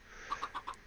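Chickens in the Minecraft video game give four short, quiet clucks in quick succession, evenly spaced within a second, faint and alone.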